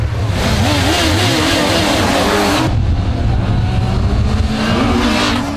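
A motorcycle engine revs hard and loud during a wheelie, a continuous close roar that rises and falls in pitch, briefly dipping near the middle before pulling again.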